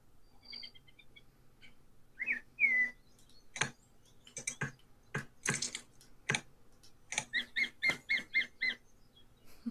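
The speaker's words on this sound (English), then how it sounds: "The bird noises." Birds call in a quiet outdoor setting: a few clear whistled notes, then sharp clicks and rasping bursts, ending with a rapid series of repeated chirps, all fairly close and with no talking.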